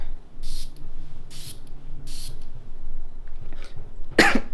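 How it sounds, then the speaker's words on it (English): A bottle of oud perfume gives several short, airy sprays in quick succession, each a soft hiss at close range, with a sharper burst near the end. "I sprayed it in my face."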